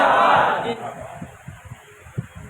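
A crowd at a religious gathering roars a chanted slogan in response, a loud swell of many voices that fades into rhythmic clapping or chanting beats.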